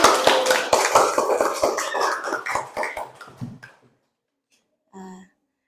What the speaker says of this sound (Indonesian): kita berikan aplaus untuk Pak Ahmad dulu